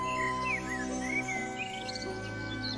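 Small birds chirp and tweet in quick, bright overlapping calls over a soft steady background hum, added as a sound effect to a children's story about a thirsty crow and birds coming to drink water.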